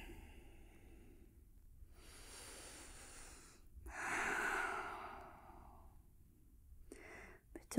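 During child's pose in a yoga class, a person breathes close and audibly in slow, deep cycles: long inhales and exhales, with one fuller, louder breath in the middle.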